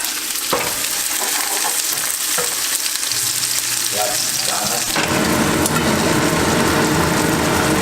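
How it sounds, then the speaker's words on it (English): Red chilies fry fast in a pan while caramelized clay pot fish is made, a steady close sizzle that swells into a loud, dense crackle partway through. "I want to fry this up really quickly. About a minute. Throw in some red chilies."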